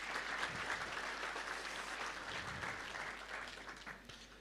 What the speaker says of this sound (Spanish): Una vez más vamos a dar, por favor, fuertes aplausos.